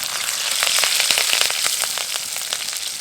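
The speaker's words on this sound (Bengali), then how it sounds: "এখন তেলের মধ্যে দিয়ে দেবো রসুন কুচি, আদা কুচি, এবার দেবো কাঁচা লঙ্কা কুচি" Chopped garlic, ginger and green chilli frying in hot oil for village-style egg chowmein, a steady close sizzle dense with bright crackles and pops throughout, no talking.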